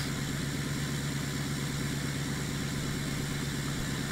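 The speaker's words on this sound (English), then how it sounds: "We're gonna fire up the engine. Then just listen to that engine purr." A pickup truck engine idles in Farming Simulator 17, a steady, even rumble with a constant low throb, no voices and no change in pitch.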